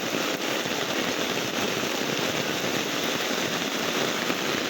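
Heavy rain pouring down at a temple, a dense unbroken hiss of falling water that stays loud and close throughout, with no talking.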